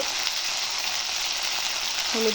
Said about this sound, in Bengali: এখানে আমি সব একসাথে এসবকে ভেজে নেব